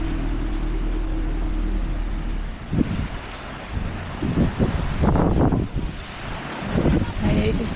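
Ocean waves roll in with gusting wind at the Kleinbaai coast near Cape Town, heard as irregular surges and washes over steady microphone wind noise after a low rumble at the start.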